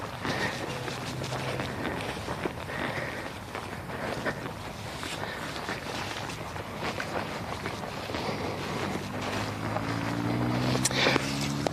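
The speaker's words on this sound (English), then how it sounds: "these gusts that come in that I'm feeling right now, you might hear it on my mic" Wind gusts buffet the microphone during a paramotor flight, a steady broadband rumble with a low engine-like drone rising near the end.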